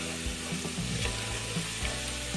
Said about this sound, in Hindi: इसके अंदर मसाले डाल देंगे, धनिया, हल्दी और लाल मिर्च पाउडर, और इसे अच्छी तरीके से भून लेंगे।